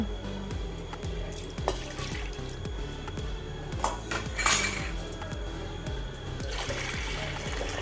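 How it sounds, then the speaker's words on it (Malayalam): Water poured into a pressure cooker holding washed toor and masoor dal, a steady close stream with rhythmic splashing and a few light metallic clinks of the cooker. "ആവശ്യത്തിനുള്ള വെള്ളം ഒഴിച്ചു കൊടുക്കുക"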